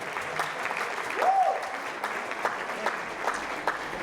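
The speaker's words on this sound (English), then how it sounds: "Big round of applause for the music and the spirit" A moderate, steady round of applause rises from the audience at a music tribute event, with a brief whistle and cheer near the start, fairly even and somewhat distant.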